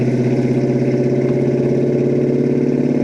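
A 1966 Ford Mustang Fastback with a 302 V8 and T5 five-speed idles steadily, a loud, close, even rumble that settles down from high idle and holds throughout with no talk over it.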